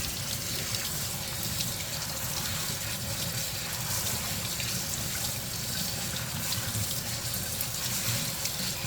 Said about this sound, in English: So now I'm washing the rice, and you're gonna wash it until the water runs clear.